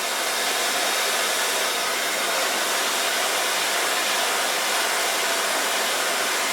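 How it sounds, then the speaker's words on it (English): A hair dryer roars in a loud, unbroken airy whoosh while blow-drying hair with a brush, steady throughout with no pauses. "and my latest blow dryer."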